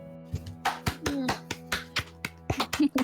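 Sharp hand claps ring out in an uneven series, close and fairly loud, with a voice coming through at the end.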